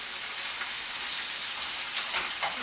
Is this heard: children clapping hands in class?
no